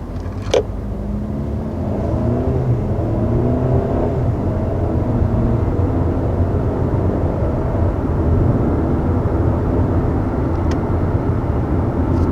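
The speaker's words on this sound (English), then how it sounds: "You may have been noticing from the takeoff there just how quick this transmission is" A 2021 Mercedes GLA 250 with a quick eight-speed transmission pulls away from a standstill, its engine note rising steadily as it accelerates, heard from inside with a constant road and engine drone.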